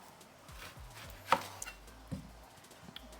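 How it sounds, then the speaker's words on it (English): A knife cuts a few slices from a red onion on a board, giving a handful of soft, close taps with one sharper chop near the middle, and no voices. "And we're gonna cut our red onion"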